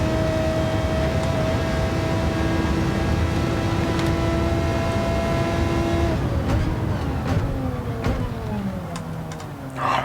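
Gran Turismo 7 race car at full throttle on the Spa circuit: a loud, steady, high engine drone that breaks into rising and falling pitch sweeps as gears change near the end, with no talking.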